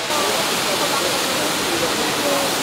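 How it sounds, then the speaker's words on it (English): Pulang Bato waterfall in Dumaguete, Philippines roars as a steady, loud, broadband rush of falling water, unbroken and filling the whole scene. "let's go see the Pulang Bato waterfalls"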